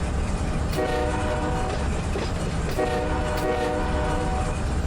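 A locomotive horn in Run 8 Train Simulator sounds two long, loud, steady blasts over a constant low engine rumble.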